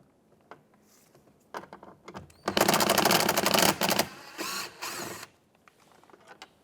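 An 8mm bolt is removed from the mirror of a 2009-2014 Ford F-150, heard as a few soft clicks and then loud, rapid rattling bursts of a ratchet, close up, with brief pauses between runs.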